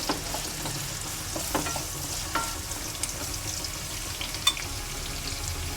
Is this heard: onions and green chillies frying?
yes